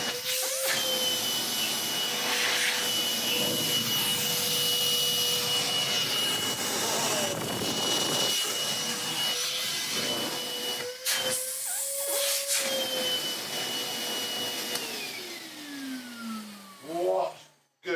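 A Hoover Constellation vacuum cleaner roars loudly and steadily with a high whining motor as its bag inflates, the pitch wavering and rising before the machine winds down abruptly at the end.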